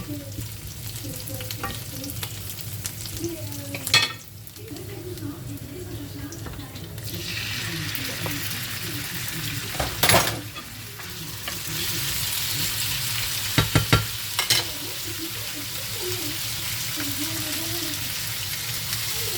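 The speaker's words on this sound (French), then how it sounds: "Et mes oignons, je laisse toujours bien cuire." Onions frying in a pan while being cooked down for tacos, a steady close sizzle with occasional stirring and clinks. A voice talks over it at times.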